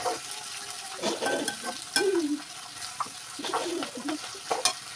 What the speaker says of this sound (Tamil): ஆனியன் கருவேப்பிலை அப்புறம் பச்சை மிளகாய் போட்டு நல்லா வணக்கிக்கோங்க